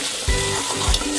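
Ginger garlic paste sizzling and frying in a pan for mutton curry, a steady close hiss with two soft stirring thumps.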